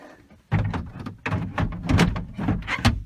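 A fold-out table being stowed into the door of a Mercedes Vito Marco Polo Westfalia camper van, a run of close plastic and metal clacks, knocks and sliding thumps after a brief quiet start.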